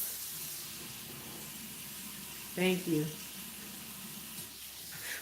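Water running from a tap into a glass, a steady hiss under a brief spoken thank-you, with the running water continuing throughout.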